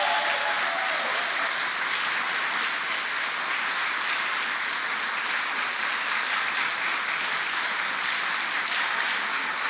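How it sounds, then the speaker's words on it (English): A round of applause from a large audience at a press event where the governor announced the lifting of pandemic restrictions, loud and unbroken, with many hands clapping in a dense, even roar throughout. "Give yourselves a round of applause."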